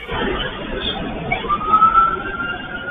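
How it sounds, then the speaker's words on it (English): A police siren wails faintly over road noise as a white van and two unmarked SUVs pull away in a pursuit, its rising tone holding steady midway through while traffic rumble continues underneath. "Sirens can be heard, but it's unclear if the sirens are coming from the ICE vehicles."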